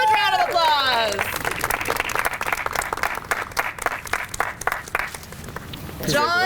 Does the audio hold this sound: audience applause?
yes